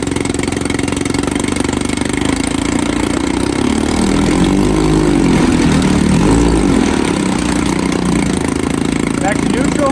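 A 1954 Evinrude 7.5 HP outboard motor runs steadily in gear, loud and close, its drone swelling slightly midway, while someone speaks over the engine.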